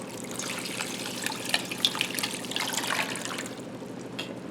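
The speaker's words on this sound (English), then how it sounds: "I'm going to cover them with water" Water poured from a tap over peach peels and pits in a pan on the stove, a steady close trickling splash that runs throughout with small bright spatters and no talk.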